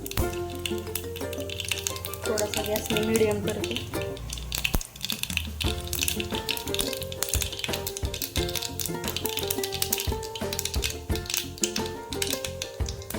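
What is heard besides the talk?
mustard seeds frying and popping in oil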